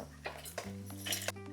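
Fried coconut for coconut chutney is moved into a mixer jar, with a handful of light metallic utensil clinks and taps in quick, uneven succession. The sounds are close but quiet, with no voices.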